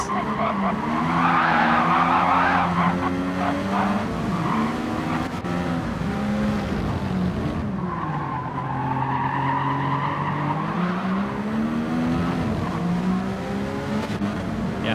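A race car skids off track at the Catalunya circuit in a racing video game. Tires squeal loudly and continuously over a straining engine whose pitch rises and falls for the whole stretch.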